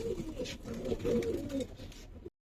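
Many pigeons, including Giribaz high-flyers, coo in a low, continuous, overlapping murmur close by, which stops abruptly at the end.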